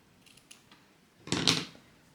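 Scissors trim excess bias binding from fabric just slid out from under a sewing machine presser foot. After a few faint handling ticks comes one short, close snip near the end, in a quiet room with no voices.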